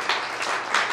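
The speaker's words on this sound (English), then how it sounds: "Give God a hand clap, amen?" A church congregation claps their hands together during a Sunday service, a steady wash of applause swelling in a few louder bursts across a single second.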